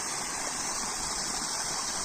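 Water seeping through the joints of a village check dam built by local people, a steady, even rush of flowing water that stays close and constant throughout, with no voices.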